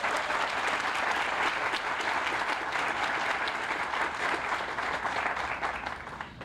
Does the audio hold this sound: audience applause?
yes